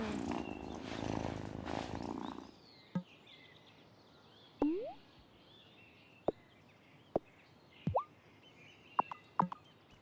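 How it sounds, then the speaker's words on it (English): A cat purrs in the farming video game Wylde Flowers, a steady rumbling purr for about two seconds, followed by quieter ambience with scattered short chirps and pops. "Oh, what a good purr."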